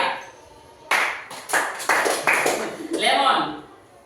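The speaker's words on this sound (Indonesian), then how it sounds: "tepuk tangan 3 kali" A classroom of children claps in a few sharp, loud bursts spread across several seconds, with brief pauses between the groups of claps.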